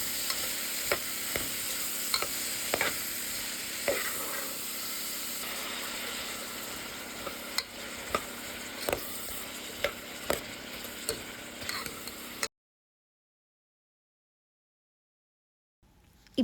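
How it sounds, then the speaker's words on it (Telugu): Onions, cumin, mustard seeds, turmeric, green chillies, cloves and cinnamon frying in hot oil in a pressure cooker, a steady sizzle broken by repeated scraping stirs, then falling silent before a brief knock at the end. "ఆయిల్ హీట్ అయ్యాక అందులో జీలకర్ర, ఆవాలు, ఆనియన్స్, టర్మరిక్, గ్రీన్ చిల్లీస్, 2 లవంగాలు, ఒక దాల్చిన చెక్క వేసుకొని ఆనియన్స్ ఫ్రై చేసుకోండి"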